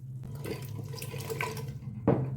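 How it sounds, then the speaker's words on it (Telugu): Water pours and splashes steadily into a metal pressure cooker over pumpkin pieces for about two seconds, close and fairly quiet. "ఇవి మునిగేంత వరకు వాటర్ వేసుకొని"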